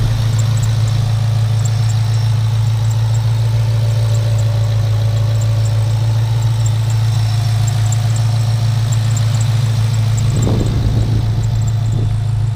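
Car fitted with a swapped Ford Coyote V8 idles with a steady, deep, rumbling hum, then gives a brief throttle blip near the end.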